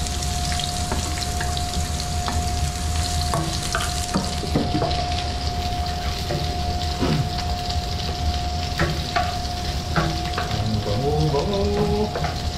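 Ginger and garlic sautéing in a pan, a steady close sizzle with scattered scraping and clicking from a ladle, over a faint constant hum.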